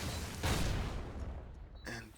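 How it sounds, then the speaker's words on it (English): A grenade blast in Counter-Strike during a competitive match: a broad, loud burst near the half-second mark with a rumbling tail, followed by fainter game noise and a later short clatter. "another good nade coming in from Mitka"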